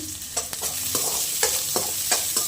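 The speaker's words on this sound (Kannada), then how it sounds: "ಇದನ್ನು ಚೆನ್ನಾಗಿ ಸ್ವಲ್ಪ ಹಸಿ ವಾಸನೆ ಹೋಗೋವರೆಗೂ ಫ್ರೈ ಮಾಡ್ಕೊಳ್ಳೋಣ" Oats frying in a pan, stirred with repeated scraping strokes at an uneven rhythm over a constant close sizzle.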